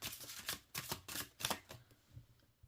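Glossy, slightly slippery tarot cards given an overhand shuffle, a string of quick soft papery slaps and riffles in uneven bursts, close and fairly quiet with no talk.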